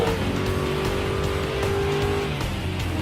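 Group 4 race cars from Gran Turismo Sport, entry-level racers such as the Mustang, Vantage and NSX, roar loudly and steadily with a sustained engine drone and a rising whine, with no talk.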